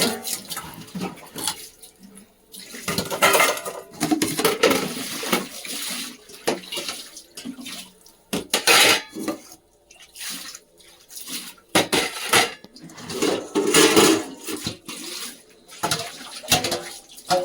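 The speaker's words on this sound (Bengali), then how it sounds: "জল পাম করে আগে বালতি ভরে নিয়ে" Water gushes into a bucket in repeated surges, splashing and sloshing with pauses between strokes, close and fairly loud.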